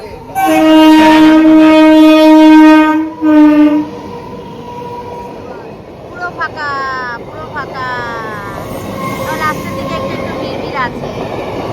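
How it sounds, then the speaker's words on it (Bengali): A loud train horn blares for several seconds, followed by the rumble and squeal of a train rolling past nearby. "ট্রেন যাবে এখন এখান দিয়ে"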